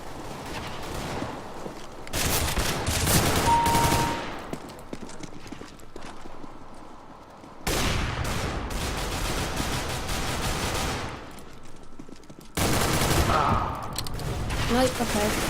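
Counter-Strike: Global Offensive gameplay with loud bursts of rapid gunfire in several long volleys and quieter gaps between them, while a player talks over the action.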